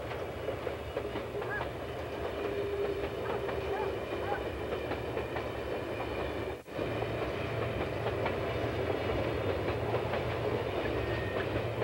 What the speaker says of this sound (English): The train rumbles through the east end of Doe River Gorge after passing Blevins.